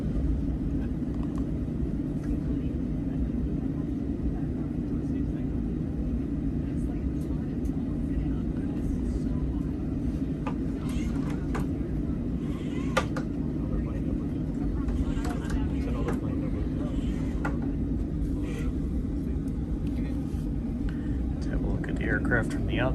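A simulated Boeing 737-800 taxis in Microsoft Flight Simulator, its engines producing a steady, loud, low rumble that holds constant for the whole stretch with only slight shifts.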